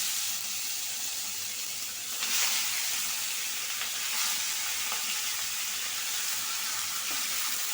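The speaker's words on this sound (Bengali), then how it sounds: "কড়াইয়ে তেল দিয়ে দিছি দিয়ে দেবো যে মুরগির মাংসটা হালকা একটু ভাইজা নেব" Chicken sizzles and crackles in hot oil in a wok, a steady bright hiss with occasional stirring scrapes, fairly quiet and close.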